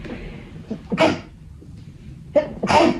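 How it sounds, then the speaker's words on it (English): A person sneezes twice in quick succession, each a sharp, loud, close burst with a short intake before it, against a quiet room. "Hold on, I have to sneeze."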